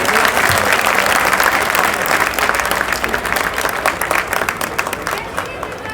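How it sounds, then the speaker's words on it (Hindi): A large crowd at a political victory celebration in Delhi claps loudly and steadily, the applause thinning into scattered claps toward the close. "ताली बजती रहनी चाहिए।"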